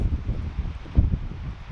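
Wind gusts through woodland at a tarp campsite on a windy morning, giving a soft, low rumbling bluster with rustle and microphone buffeting, uneven and close.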